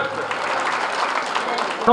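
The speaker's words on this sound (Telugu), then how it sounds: "అందరు క్లాప్స్" A crowd at a public event with a minister claps in a dense, steady burst of applause that carries on throughout, with some speech mixed in beneath the clapping.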